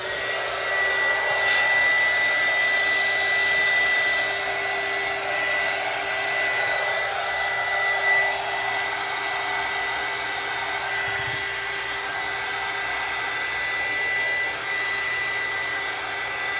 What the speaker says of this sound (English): Touch the cup with the heat gun.